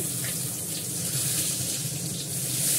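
Steady broadband rush of water flowing from a kitchen tap into a sink while cooking, continuous and fairly close for the whole stretch, with no voices.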